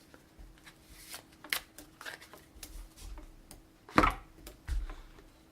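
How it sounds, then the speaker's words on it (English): Playing cards shuffled for the 7th Continent board game, a series of soft riffling bursts and taps with a sharper flurry near the end, close and fairly quiet. "Alright, so now that is good and shuffled."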